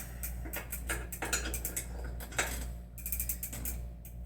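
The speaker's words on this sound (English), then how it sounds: "We are now into lefty tighty. Pedal wrench." A pedal wrench tightening a pedal on a cheap bicycle makes quiet, close metallic ratcheting clicks in irregular bursts against a low background hum.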